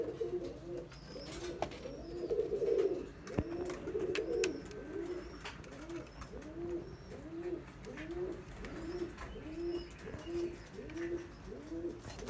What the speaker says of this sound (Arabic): عزيز علي هذا الحمام.